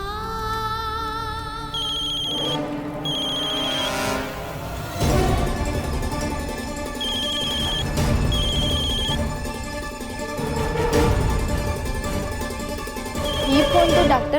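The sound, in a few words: mobile phone ringing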